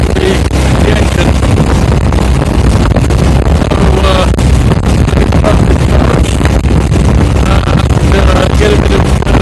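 A sailboat's engine drones steadily while motoring on the Seine into the wind, a continuous loud rumble mixed with buffeting wind noise across the microphone, with no break.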